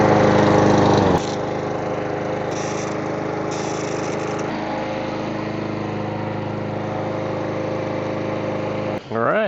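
A TB160 push lawn mower's small engine, spark plug just refitted, running at a loud steady drone as it warms up, with a sharp change in pitch early on and a brief dip near the end.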